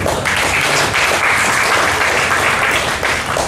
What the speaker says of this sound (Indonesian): Kita beri tepuk tangan, saudara.